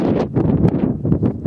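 Cold, gusty desert wind buffets the microphone outdoors in rough, uneven low rumbling bursts that rise and fall over a second or so.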